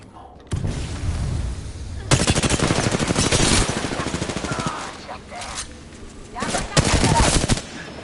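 Bursts of automatic gunfire from the video game Apex Legends, with rapid rattling volleys coming in several loud stretches and short pauses between them, played over a dense game soundscape.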